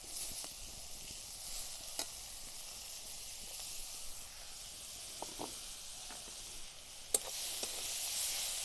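Grated carrot and beetroot fried with onion and ginger hiss in a pan as a steady, fairly faint sizzle, broken by a few scattered clinks and scrapes from a stirring spoon, with one sharper knock near the end; no voices.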